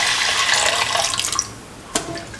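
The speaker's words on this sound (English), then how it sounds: "Now pour in around 250 ml of coconut" Around 250 ml of coconut milk pours into a pan with a close, steady liquid splash, tapering off briefly before a short final splatter.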